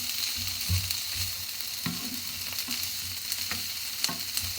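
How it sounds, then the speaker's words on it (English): Corned beef hash with garlic sizzling steadily in a frying pan while being stirred, the spoon scraping and knocking softly now and then, close and continuous with no talk. "Give it a bit of a stir."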